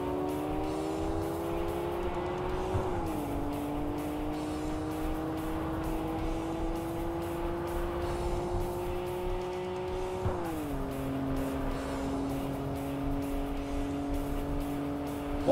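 A racing car in the video game Tokyo Xtreme Racer 3 drives with a loud, continuous engine whine whose pitch climbs and drops sharply at gear shifts, with faint tire noise and no talking.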